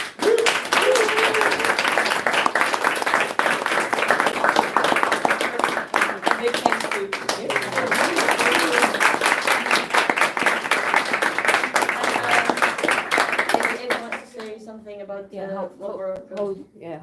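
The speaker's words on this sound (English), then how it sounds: "So one round of applause for, first of all," A round of applause at a live-streamed talk, continuous clapping from an audience mixed with voices, fading near the end as speech takes over.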